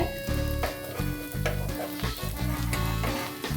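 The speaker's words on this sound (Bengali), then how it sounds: "একটু সময় নিয়ে ভাজছি" Food frying steadily in a hot pan, a continuous sizzle lasting a few seconds with no talk, during home cooking of a semolina and yogurt dish.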